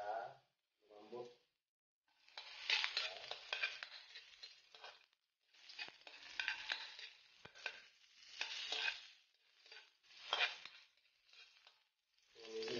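Pork sautéed and stirred in a pan for dinuguan, bursts of sizzling and scraping stirring in uneven waves with brief quiet gaps, close and moderately loud.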